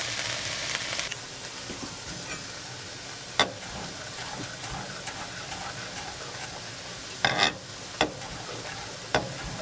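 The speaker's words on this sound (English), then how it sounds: "It's really delicate, so I don't really want to stir it, so I'm just trying to flip it around." Purple cauliflower frying in a pan, a steady close sizzle throughout, louder for the first second, with a few sharp clinks and scrapes of a utensil turning the pieces.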